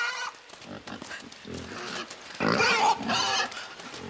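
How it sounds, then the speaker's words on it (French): A pig squealing and grunting in the video game Inside, with several short, harsh, loud squeals in a burst toward the end after softer snorts. "Calme-toi, petit cochon."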